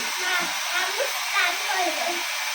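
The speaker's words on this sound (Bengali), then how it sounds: "ওই চুলটা একটু ড্রায়ার দিয়ে দিচ্ছি" A hair dryer blows on a child's hair, giving a steady airy whoosh with a few faint swells as it moves. The drone runs close and continuous throughout.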